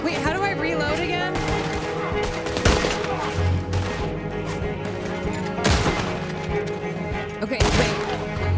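Dense video game gunfire fills the shootout, with rapid volleys and several heavier bursts standing out over a steady noisy battle bed, while a player talks over the action.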